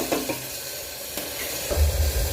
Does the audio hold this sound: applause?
no